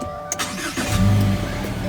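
A 2018 Subaru Impreza engine cranks and catches: a quick starter whir, then a low rumble that swells into a steady idle, close and clear, with no talk over it.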